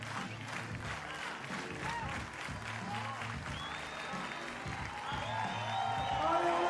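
A crowd applauds a woman competing in a parkour freestyle final at FISE Montpellier. The clapping is steady and swells slightly toward the end, with a commentator talking over it.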